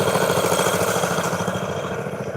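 A 1946 John Deere D tractor engine runs steadily at an antique power show, a loud, close, continuous low putter with a regular pulsing beat and no talk over it.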